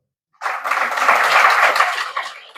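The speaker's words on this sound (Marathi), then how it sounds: "त्यांना सुद्धा गुप्तरीतीनं टाळी वाजवा." An audience at a religious gathering breaks into applause after a short silence, a sustained dense wash of many hands clapping at moderate distance that holds steady for about two seconds before thinning slightly.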